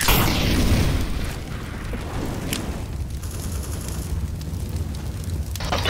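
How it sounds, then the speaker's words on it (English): An incendiary grenade going off in a tactical shooter video game, a loud opening burst followed by a sustained roaring, crackling rumble of fire that stays close and dense throughout. "Incendiary out."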